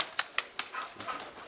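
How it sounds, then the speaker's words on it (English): A dog gives a series of short barks and yelps in a pigeon loft housing tippler pigeons, about six sharp, fairly faint bursts spaced evenly over a second and a half, with no talking. "These guys shouldn't be afraid of the dog"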